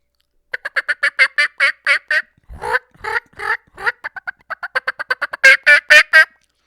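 Turkey calls made by a person with a mouth diaphragm call, a voice imitating the bird: rapid runs of loud, close yelps and clucks in rhythmic bursts, with a rougher gobble-like stretch in the middle.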